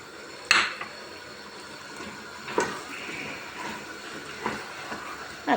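Metal clanks ring out a few times at uneven intervals over a steady background hiss as a pot, held with one hand, knocks against a stovetop while tomatoes and onions sauté.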